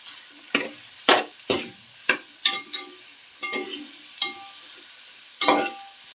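Sliced onion and tomato frying in a pan for Kerala fish mappas, with about eight scraping stirring strokes at an uneven pace over a soft sizzle, close and clear with no talking.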